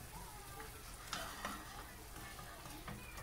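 Corned beef and spinach omelette mixture sizzles faintly in a pan, a low steady frying hiss with a few soft scrapes of stirring and a voice talking over it.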